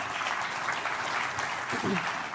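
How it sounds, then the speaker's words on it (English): An audience at a business sustainability event applauds to welcome an economist to the stage, a steady moderate burst of clapping with a voice briefly heard over it. "An applause for Chris"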